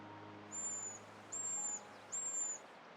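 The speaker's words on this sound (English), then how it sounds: "Whereas the pygmy owl is usually a nocturnal predator, it now hunts in daytime as well" A pygmy owl calls in Alpine conifer woods, three evenly spaced high, whistled notes over a soft steady background hum, fairly faint and distant.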